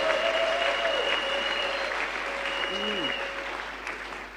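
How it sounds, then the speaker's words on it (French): A church congregation applauds steadily in a large hall, producing a sustained, even wash of clapping with a few faint tonal sounds above it. "J'aimerais qu'on l'acclame."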